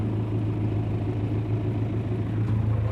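An MTZ tractor pulling an SZP 3.6 seed drill on a wheat field direct-sown over sunflower stubble, its engine a steady, close, low diesel rumble that holds level throughout with no talk.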